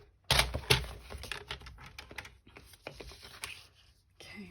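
Paper for a Stampin' Up wreath craft is cut with a run of crisp snipping and crunching, close and fairly loud at first, then quieter irregular rustles and clicks of handling the sheet.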